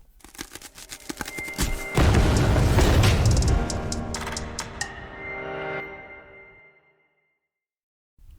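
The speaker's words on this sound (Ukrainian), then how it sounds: "Це останній постріл." A loud rifle shot, a Snow Peak PP750, with a long rolling echo that fades over several seconds, preceded by fainter crackling.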